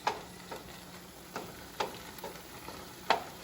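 Vegetables for fried rice are stir-fried and pushed aside in a pan, a quiet sizzle broken by sharp spatula scrapes and taps at uneven intervals.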